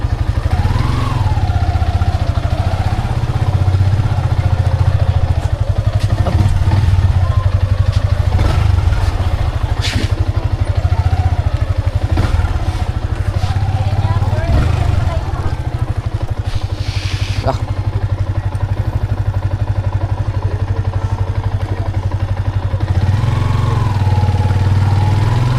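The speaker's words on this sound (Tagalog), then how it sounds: "Love na love ko talaga ang tunog ng motor na to." A motorcycle engine idles and revs loudly and steadily nearby, its throbbing low rumble continuous throughout, with some faint clatter.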